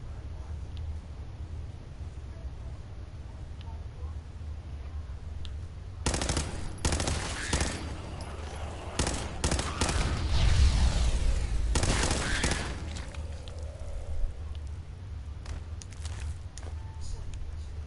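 Rapid bursts of pipe pistol fire in Fallout 4 crack out in quick volleys after a quiet start, with a thudding impact in the middle and a voice talking over parts of it.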